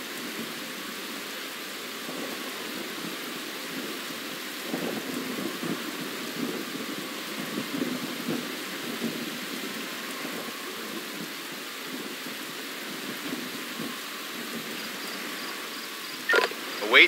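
Thunderstorm with rain in the emergency-services game Emergency 5, a steady hiss of rainfall with low rolling thunder rumbles throughout, and a sharp louder crack near the end.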